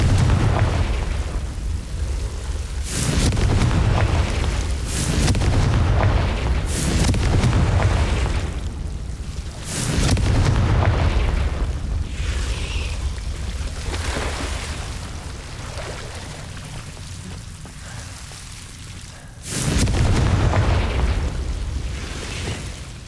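In Hogwarts Legacy, the Confringo spell goes off repeatedly as a series of loud, booming blasts with rumbling tails, separated by quieter stretches of game ambience, and no speech can be heard.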